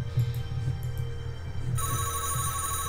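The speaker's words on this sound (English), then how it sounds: "I swear, the phone never rings this much." A telephone rings in the Nancy Drew: Shattered Medallion video game, a steady electronic trill that shifts to a higher, brighter tone partway through, moderately loud and heard alone.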